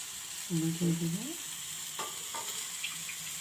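Bharli vangi, stuffed eggplant, frying with fresh coriander in a pan, with a soft continuous sizzle, occasional stirring scrapes, and a brief voice near the start.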